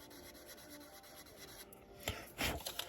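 Sandpaper rubbing on a plastic model car body, an AMT 1965 El Camino kit, heard as quiet repeated scratchy strokes that grow louder and more forceful near the end.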